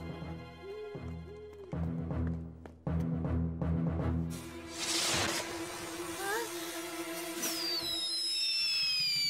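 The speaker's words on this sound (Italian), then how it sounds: "Oh no, i fuochi d'artificio." Cartoon fireworks go off near a house: rising whistles, crackling bursts and sizzling showers build over a musical background, loud and layered, ending in a cluster of shrill descending whistles.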